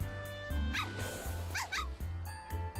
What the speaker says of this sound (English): we do have some dogs that are unleashed and they're using the lawn as their toilet